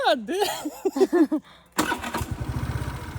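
A scooter engine is started on a trip to Gokarna, catching with a loud rush and settling into a steady, pulsing idle nearby after a stretch of voices talking.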